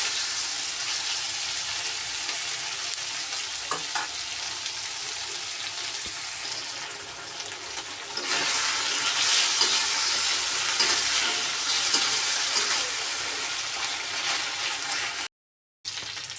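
Pieces of meat frying with spices in a pan, a continuous hiss and sizzle with occasional stirring scrapes, close and fairly loud, swelling brighter partway through, with a brief dropout near the end.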